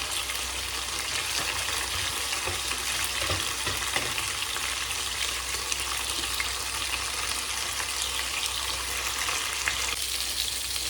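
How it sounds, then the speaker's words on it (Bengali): Hot cooking oil sizzles and crackles steadily in a kadai on a lit stove, a continuous close hiss of frying with no talking. "কড়াইতে তেল দিয়ে দিয়েছি, তেলটা গরম হয়ে গেছে ভালোভাবে"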